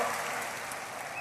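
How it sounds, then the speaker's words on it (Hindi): An audience at a spiritual discourse claps steadily, a soft, diffuse patter of many hands heard from a distance with no talking over it. "ताली बजाओ इनके लिए"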